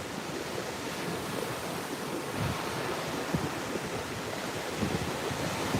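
Ocean surf rolling onto a Gulf Coast beach on Padre Island, Texas, a steady broadband wash of breaking waves with light wind buffeting the microphone, continuous and fairly loud with no voices.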